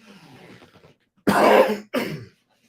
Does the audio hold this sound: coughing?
yes